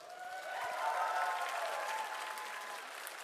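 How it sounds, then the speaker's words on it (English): An audience at a 2016 Summer of Sonic cosplay contest applauds as the cosplayers leave the stage, a steady, fairly distant wash of clapping that swells and then holds. "Give them one last round of applause as they leave the stage."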